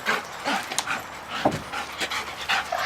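A two-year-old working dog pants close by in quick, breathy bursts, with an occasional small whimper, and no talk.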